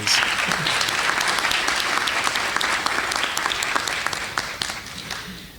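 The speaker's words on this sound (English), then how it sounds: "Let's applaud the efforts of these well-deserving nominees." An audience at an awards ceremony applauds nominees with sustained, loud clapping from a large crowd that gradually thins and fades at the end.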